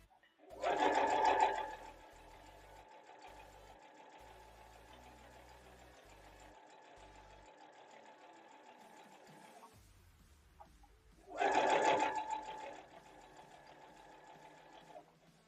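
A sewing machine stitches down the corner of a flange binding on a quilt in two short, loud bursts about ten seconds apart, with a faint motor hum between them.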